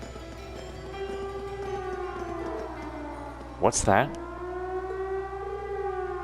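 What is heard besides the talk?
siren from a fort in a video game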